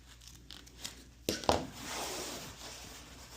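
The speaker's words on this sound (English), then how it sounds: "And then we're just going to tear it." Fabric torn by hand after a small snip, a quick ripping burst with a sharp crackle near mid-clip, then soft rustling of the cloth, close and fairly quiet.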